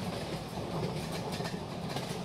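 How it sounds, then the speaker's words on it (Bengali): A passenger train runs on rails with a steady, close rumble and a rhythmic clickety-clack of wheels over track joints, continuous throughout with no voices. "কখন যে ট্রেন থামবে"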